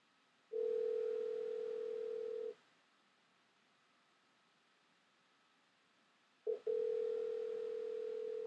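A steady telephone dial tone from a MagicJack VoIP line plays clearly for about two seconds, cuts to a faint hiss, then returns after a brief blip and holds steady, with no voices.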